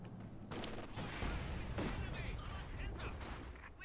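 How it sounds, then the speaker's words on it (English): A mine detonates in a strategy video game match amid ongoing battle noise, with dense crackling gunfire and booming blasts running throughout, under a commentator's voice. "That's a mine detonating"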